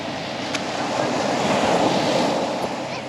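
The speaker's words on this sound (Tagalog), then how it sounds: "It's so scary, the big waves." Big ocean waves wash onto a beach at Heraklion, a steady broadband roar of surf with some wind noise, continuous and fairly loud throughout.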